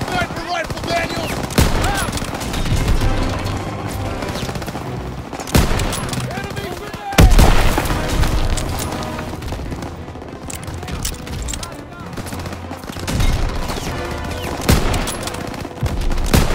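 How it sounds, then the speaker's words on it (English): Sustained gunfire in a Call of Duty: WWII battle during Operation Cobra, with dense bursts of rifle and machine-gun fire and heavy booming hits, loud and continuous, mixed with shouted voices. "Everyone, open fire!"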